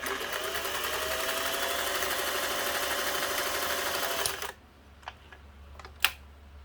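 A Singer 401a sewing machine stitches in a loud, fast, continuous mechanical whir that stops abruptly, followed by quiet room tone and a couple of sharp clicks.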